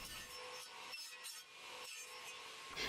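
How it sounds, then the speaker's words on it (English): A crosscut saw cuts a series of notches into a wooden workpiece for a bird table feeder, with rhythmic rasping back-and-forth strokes close by and no talking. "my dad's setting up the crosscut saw for me so I could make a series of notches."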